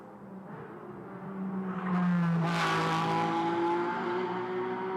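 A GT race car accelerates hard during SRO GT Cup pre-qualifying in Beijing, its engine note rising loud and close, then holding a strong, steady roar.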